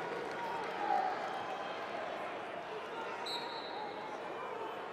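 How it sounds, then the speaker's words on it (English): Iowa wrestling bench shouting encouragement to their 165-pound wrestler during a 2013 NWCA Cliff Keen National Duals semifinal against Minnesota. Indistinct shouts rise over a steady, echoing arena crowd murmur. "And you can hear the Iowa bench imploring their guy on to get going,"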